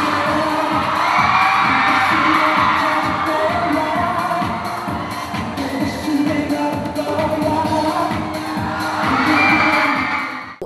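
A crowd of fans screams and cheers continuously at a Christmas Eve fan event in Hong Kong with Thai prince Nichkhun, loud high shrieks over rhythmic pulsing thumps, swelling again near the end.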